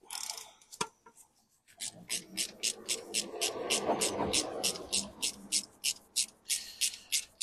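A torque wrench tightens the sump bolts on a Mini Cooper R56, giving a quick, regular run of sharp ratchet clicks, close and fairly quiet, after a single knock and a short pause.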